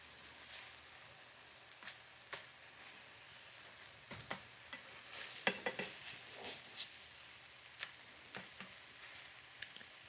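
Salmon and eggs frying quietly in a pan, with a soft background sizzle punctuated by scattered clinks and scrapes of a utensil flipping and stirring.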